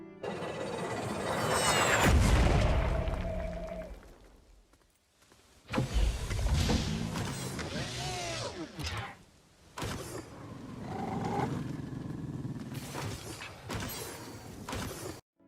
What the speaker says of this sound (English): dropping the thumper, and protecting it until resource extraction completed